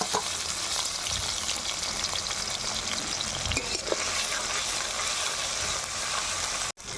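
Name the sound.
chopped tomatoes and spices frying in hot oil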